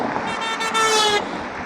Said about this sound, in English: Why you honking at me, bro?